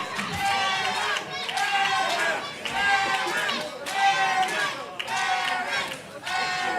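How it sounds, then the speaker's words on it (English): A large crowd roars and cheers in sustained waves, loud and continuous, with shouting voices mixed throughout. "And listen to that crowd."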